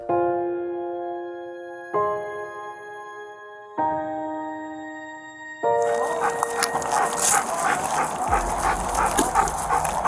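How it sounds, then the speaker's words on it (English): A Belgian Malinois police dog pursues a suspect. Several ringing tones sound at even intervals, then a close, loud burst of rapid, repeated barking follows. "K-9 Loki is a Belgian Malinois."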